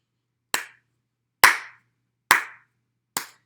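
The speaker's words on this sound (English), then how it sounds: "Can you clap along with me?" Four crisp, single hand claps at an even, unhurried pace, each one close and clear with a short decay, part of a children's story-time hello song.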